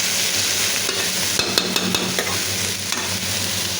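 Spiny gourd (kakrol) bhaji frying in a pan with little turmeric, a loud steady sizzle broken by a run of spatula scrapes and taps while it is stirred, close and without talk.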